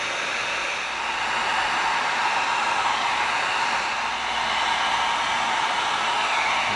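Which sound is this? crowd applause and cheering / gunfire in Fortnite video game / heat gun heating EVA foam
heat gun heating EVA foam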